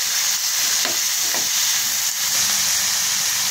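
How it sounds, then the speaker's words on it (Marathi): Onion, capsicum and tomato fry in hot oil, making a loud, continuous hissing sizzle with a couple of faint scrapes of stirring. "तेल गरम झालं की लगेच आपण कांदा टाकून घेऊयात। कांदा चांगला परतून घ्यायचा।"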